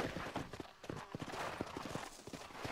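A horse gallops in Red Dead Redemption, a quick rhythmic clip-clop of hooves at moderate distance with ambient game sound, and faint voices in the background.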